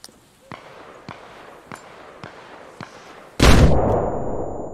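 A frag grenade blast in the military shooter ARMA Reforger: a series of sharp distant gunshots pop at a steady rhythm, then one loud close explosion booms and rumbles down into a long fading tail.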